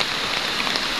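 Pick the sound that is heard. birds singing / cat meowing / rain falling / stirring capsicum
rain falling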